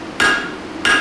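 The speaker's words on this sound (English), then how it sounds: "Notice how I'm hammering at the plane that I'm wanting to adjust." A blacksmith's hammer strikes metal twice while forging a set-down, each blow a sharp ringing clang with a lingering metallic tone, close and loud.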